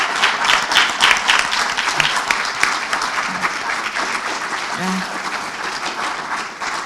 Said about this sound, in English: Can we have a round of applause for everyone?